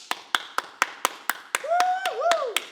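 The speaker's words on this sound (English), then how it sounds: "Take a second and clap it up." Hand clapping at a home boxing workout, about a dozen sharp, evenly spaced claps, with a voice whooping over the later claps.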